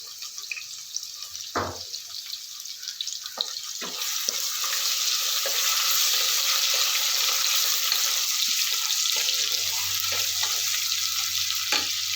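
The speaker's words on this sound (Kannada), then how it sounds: "ಶುಂಠಿ ಬೆಳ್ಳುಳ್ಳಿ ಪೇಸ್ಟ್ ಹಾಕ್ತಾ ಹಾಕ್ತಾಯಿದ್ದೀನಿ" Ginger garlic paste sizzles and fries in a hot pan, a steady bright hiss that swells louder after a few seconds, punctuated by occasional spoon clinks and stirring scrapes, with a low hum entering near the end.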